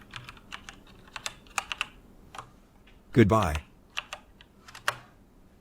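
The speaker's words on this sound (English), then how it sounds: "typed into the keyboard before stopping for the night" Crisp keystrokes tap on a computer keyboard in short irregular bursts, interrupted once by a brief spoken word.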